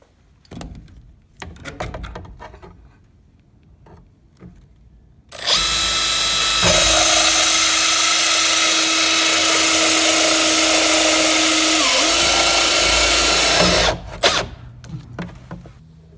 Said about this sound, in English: I'm going to be using these Milwaukee thin wall hole saws.